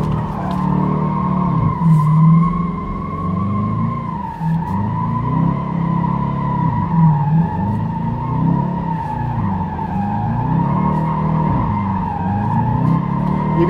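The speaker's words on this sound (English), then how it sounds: "you can just drift just like this." A Dodge Challenger R/T drifts with a loud, sustained tire squeal over a throaty engine roar, the screech wavering continuously at close range throughout.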